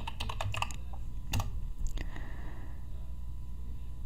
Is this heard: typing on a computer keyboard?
yes